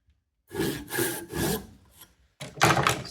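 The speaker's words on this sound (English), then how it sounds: "the saw has to follow the previous cuts" A hand saw cuts along a dovetail line in a wooden workpiece with several close, rasping strokes, a short pause, then more strokes.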